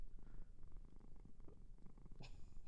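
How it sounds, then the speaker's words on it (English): A cat purrs softly and continuously at close range, a low rumbling vibration with faint breathy pulses and no talk over it. "that's the cat purring."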